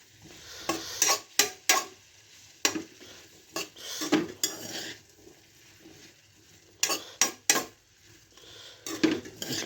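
Ivy gourd curry is stirred in a metal pan with a spoon, giving repeated sharp scraping clanks in irregular bursts over a faint low sizzle.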